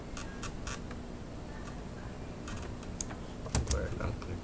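Fast, light clicks of typing on a computer keyboard come in short bursts, fairly quiet and close, with a louder thump near the end.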